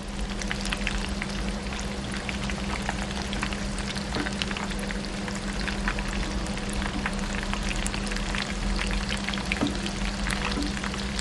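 Coconut-crusted shrimp fry steadily in hot oil in a pan over low flame, giving a dense, continuous sizzle and crackle with a low hum underneath, loud and close, with no talking.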